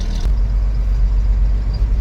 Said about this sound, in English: She's running off her own old fuel.